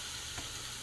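An egg sizzles in a hot pan alongside a sweet potato hash with bacon, spinach and mushrooms, a steady close crackling hiss with a brief soft stir in the middle.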